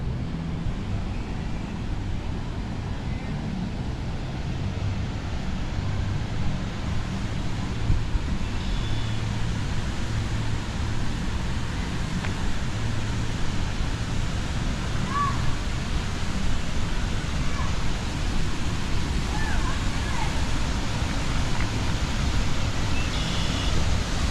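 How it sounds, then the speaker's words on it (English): A waterfall in White River Park gives a steady, broad rushing roar that holds evenly the whole time, moderately loud and unbroken, with faint sounds of the surroundings layered in. "Goes another really nice waterfall right here"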